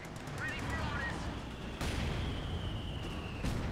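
Mortar pit shells land in a real-time strategy battle, a dense continuous din of distant blasts and gunfire with a couple of sharper impacts standing out over a steady roar.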